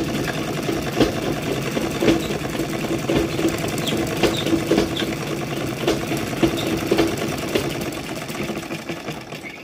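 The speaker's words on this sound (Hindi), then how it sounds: "दोबारा से इधर सिलाई ले जाएंगे।" A sewing machine runs steadily while stitching a beltless salwar, a continuous close mechanical whir with rapid needle clatter and small pauses in speed.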